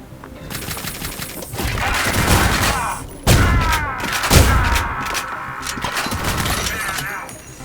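Rapid gunfire and impacts from the retro first-person shooter Ion Fury, loud and busy throughout, with bursts of shots, crunching hits and a sharp blast partway through, played without talk over it.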